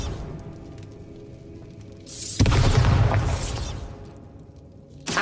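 Bombarda blasting spell exploding in the Hogwarts Legacy video game, a sudden loud boom with a bright shattering burst that rumbles and decays over about two seconds after a quieter buildup, then a second sharp hit at the end.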